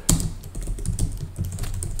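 Quick, close typing on a computer keyboard, a steady patter of light key clicks for a couple of seconds with no talking.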